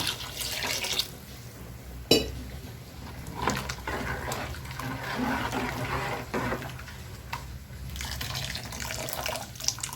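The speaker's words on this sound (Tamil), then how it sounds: "இன்னும் கொஞ்சம் தண்ணி ஊற்றலாம்" Water pours and splashes in uneven bursts into a pot of goat curry, with a sharp clank partway through and soft dripping between pours, fairly close.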